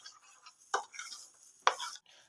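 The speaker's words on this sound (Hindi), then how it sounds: "तमाम स्पाइसेस को मैं इसमें अच्छी तरह मिक्स कर लूँगा।" Spices are mixed into yogurt in a bowl with two sharp spoon scrapes against the side and soft stirring between them, close and quiet.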